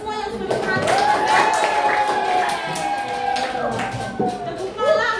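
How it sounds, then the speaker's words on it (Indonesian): A classroom group claps in a scattered, continuous patter while a voice carries loudly over the applause. "Tepuk tangan untuk kita semua yang sudah berperang."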